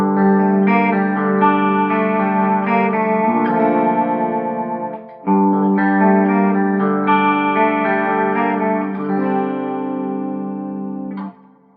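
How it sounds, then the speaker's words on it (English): Electric guitar on the bridge pickup played through a Line 6 Catalyst CX amp with chorus and reverb, giving a bright, shimmering sustained melody that pauses briefly midway and then rings on, with no talking. "I'm going to go ahead and put on my personal effects here that I have saved, which is a chorus and reverb"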